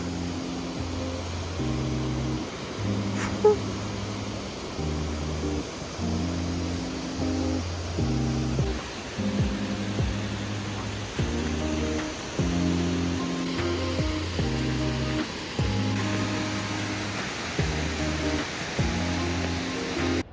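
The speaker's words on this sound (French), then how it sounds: "les cascades d'Ouzoud euh, au coucher du soleil en plus." Water pours down the Ouzoud waterfalls in Morocco at sunset, a constant broad rushing roar heard the whole time beneath louder, rhythmic background music with a steady chord pattern.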